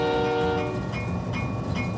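Train horn sounding at a railway station, a loud steady horn tone at the start fading into rumbling rail noise, with no talking.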